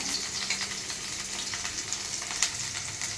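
Garlic and finely chopped ginger frying in oil for toor dal curry, giving a soft, even sizzle that stays steady and close for the whole short stretch.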